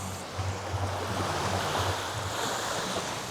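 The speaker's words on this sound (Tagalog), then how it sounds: "So ito siya, yung kanilang dagat" Ocean waves roll onto a beach in Aurora, Philippines, a continuous rushing surf with gentle swells and some wind buffeting the microphone, moderately loud and with nobody talking.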